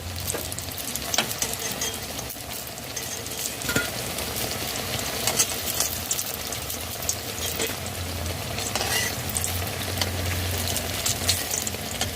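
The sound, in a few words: eggplant slices frying in a pan on high flame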